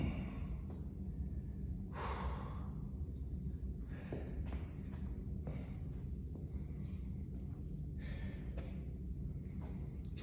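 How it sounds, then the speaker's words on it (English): Heavy breathing during a workout, with a series of audible exhales, gasps and sighs repeating irregularly over a low steady background hum, close and fairly quiet. "Pardon the breathing."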